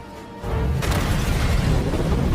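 A city power plant explodes in the film Samaritan, a sudden deep boom after a brief quiet lead-in, followed by a loud, sustained roaring rumble of fire and debris.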